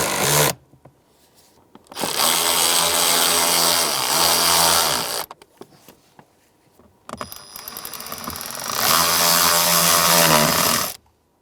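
A power driver runs T25 screws down on the heater blower motor cover of a 2003-2011 Honda Element: two loud sustained whirring bursts with a short pause between them, close up and with no talk.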